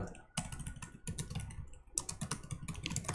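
Fingers type a short word on a computer keyboard during a JavaScript coding demo, producing quick bursts of crisp, close clicks with a quiet voice talking underneath.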